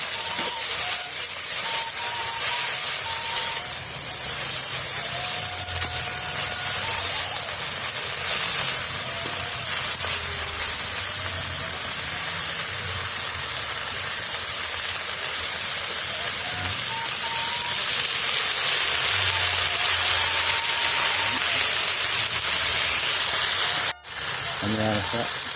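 Water spinach stir-fried in a frying pan gives a loud, steady sizzle and hiss that runs throughout, with faint voices and a sharp knock near the end.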